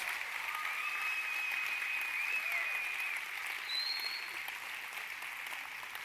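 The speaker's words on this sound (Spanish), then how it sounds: "se merecen un aplauso" A church congregation applauds steadily through a Sunday service, the clapping fairly soft and diffuse as if heard from within the room, with a faint whistle-like tone rising briefly over it and no talking.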